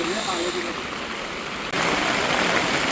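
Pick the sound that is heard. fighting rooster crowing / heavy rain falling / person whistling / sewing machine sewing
heavy rain falling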